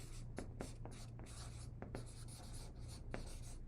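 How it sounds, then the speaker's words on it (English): Marker or chalk writing on a classroom board produces quiet, steady scratchy strokes and taps in irregular rhythm over a low background hum, with no talking. "So let's write maple seeds here."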